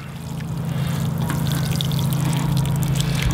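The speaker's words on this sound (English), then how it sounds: "let me grab my watering can and water these in" A watering can pours a steady stream of water onto freshly planted cauliflower seedlings in a garden, a close, continuous splashing flow with no talking.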